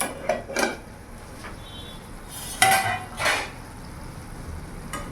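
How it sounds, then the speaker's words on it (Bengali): A lid comes off a pot of simmering small-fish chorchori, giving a few sharp metallic clinks and a louder clatter midway over a faint low sizzle, close by, with no talking. "এবার ঢাকা খুলে দেখবো"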